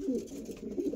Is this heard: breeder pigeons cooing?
yes